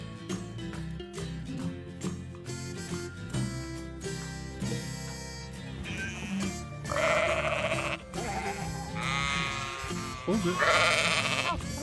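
Sheep bleat loudly and repeatedly close by, with people talking over and between the calls.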